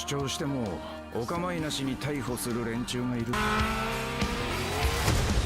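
Arcade racing in the video game Burnout Paradise Remastered, with engines revving and shifting in rising sweeps and tires squealing, steady and loud, while a voice talks over the action throughout.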